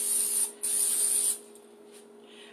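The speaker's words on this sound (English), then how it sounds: "We're going to give this one final spray." Cooking spray hisses from an aerosol can while French toast is being made, two close bursts about a second each with a short gap between them, then a quiet pause and a faint knock at the end.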